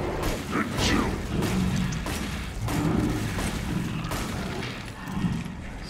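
Repeated booming gunshots fire from a weapon during a boss fight in Resident Evil 7, arriving in irregular bursts over a dense, rumbling game soundscape of thuds and mechanical noise, with someone talking over them.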